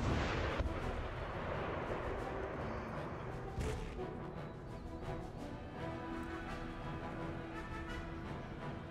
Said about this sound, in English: Shots are landing all around this demi-cannon team.